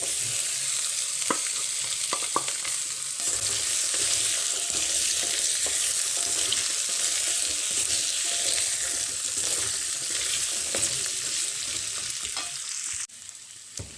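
Potatoes hit a pan of hot oil with cumin seeds, giving a loud continuous sizzle and crackle with occasional stirring clinks, steady throughout and close up, without any talking.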